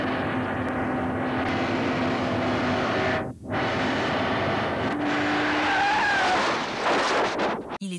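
A car in a film scene driving fast before a fatal crash: loud continuous engine and road roar with a rising whine and a sudden brief dip, fading into harsh noise at the end, no talking.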